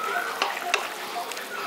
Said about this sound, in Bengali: ভালো করে মিশিয়ে দিচ্ছি